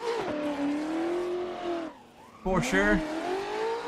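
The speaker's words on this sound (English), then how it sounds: "As we're smoking this in fifth gear right now." BMW E36 pro drift car in fifth gear on a mountain road, engine droning with a wavering pitch, then a dip and a burst of tire squeal and revving, with a person talking briefly.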